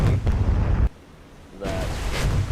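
A shell strikes the cruiser Prinz Eugen during a naval battle in War on the Sea, a loud, close blast that cuts out abruptly, followed by a short lull and then another heavy rumbling burst.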